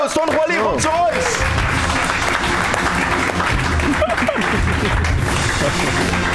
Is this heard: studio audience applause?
yes